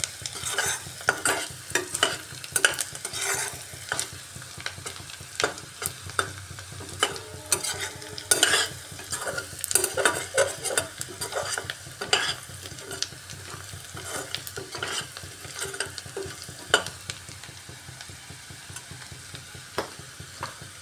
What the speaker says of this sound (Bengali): পেঁয়াজটাকে লাল লাল করে ভেজে নিচ্ছি।